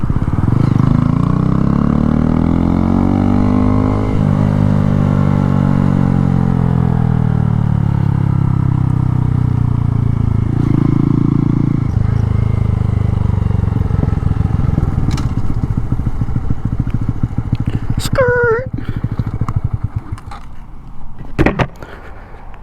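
A Honda Grom motorcycle with a stunt one-finger clutch lever rides along, its loud steady engine drone shifting in pitch as it revs and eases, with a few sharp clattering knocks near the end.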